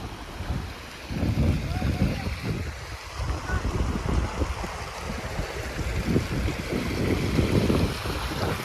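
Water flows steadily along an outdoor stream, a continuous rushing wash with gusty wind buffeting the microphone throughout.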